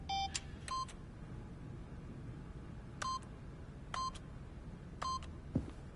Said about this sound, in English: by simply pushing random buttons on the keypad, Stanley happened to input the correct code